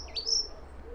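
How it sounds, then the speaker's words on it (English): A songbird with a bluish throat sings in a garden, its bright, sweeping chirps and whistled phrases ringing out close and clear for about a second over a soft outdoor background hum. "nature and birds singing in the trees"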